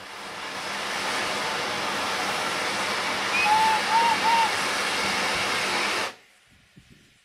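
A heritage steam locomotive's boiler blowdown at the North Norfolk Railway yard releases a loud, roaring rush of steam that holds steady for about six seconds before cutting off abruptly, leaving faint clanks and background behind.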